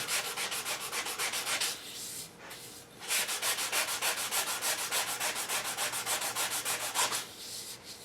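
Rhythmic back-and-forth rasp of 120 grit sandpaper on an English walnut stock for an HW80 air rifle, steady close strokes with a brief pause near the middle.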